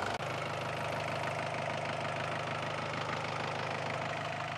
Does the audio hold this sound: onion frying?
no